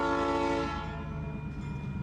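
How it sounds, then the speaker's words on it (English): P3 air horn on a passing train blares loud and chord-like, then fades as the train rolls on, with rail noise underneath and no speech. "Awesome P3 air horn."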